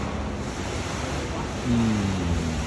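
Water falls from a height inside Lulu Market in Al Yarmuk, giving a steady, loud, broadband rush that swells slightly midway, with faint voices underneath.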